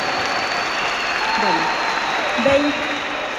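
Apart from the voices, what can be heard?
audience applause in church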